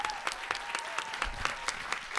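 Audience applause at a startup demo day: a steady run of hand claps at moderate volume, individual claps standing out in a loose rhythm throughout.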